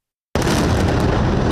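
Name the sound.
explosions in Gaza City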